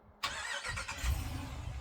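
A brand new Ram 2500 pickup truck fired up by a Viper remote start: a quiet pause, then the engine cranks and catches abruptly and settles into a steady idle, moderately close and with no talk.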